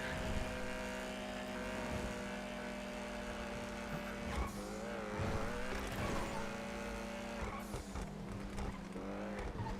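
An Argento car engine in the video game GTA 5 drones steadily at a constant pitch, joined partway through by rising revs and tire squeal, fairly quiet throughout.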